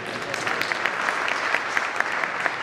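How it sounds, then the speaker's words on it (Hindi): An audience at a national Hindi poetry gathering applauds, a dense, steady wash of many hands clapping at even strength throughout. "इनके लिए एक बार जोरदार तालियां"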